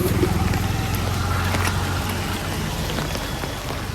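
Steady rain falls throughout, a dense even hiss of drops on surfaces with a low background rumble, no voices heard.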